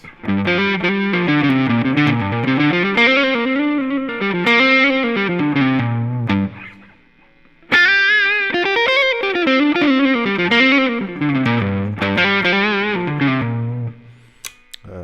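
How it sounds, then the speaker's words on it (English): Overdriven electric guitar through a Kemper Profiler Player's green screamer-style overdrive on the bridge pickup plays a continuous melodic riff with a thick, mid-heavy crunch, pausing briefly midway before resuming, loud and alone. "And here's the overdrive. It's a green screamer"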